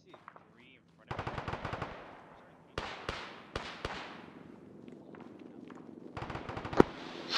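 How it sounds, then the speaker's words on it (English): Gunfire erupts across an Arma 3 battle in sharp bursts of rapid automatic shots, several clusters with gaps between them, some close and loud, others further off, over a quiet background with faint voices. "He's shooting here, he's shooting."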